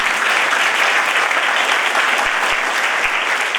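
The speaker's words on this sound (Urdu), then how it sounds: "تالیاں بجائیں۔" A church congregation claps together in steady, loud applause throughout, with a few sharp low knocks near the end.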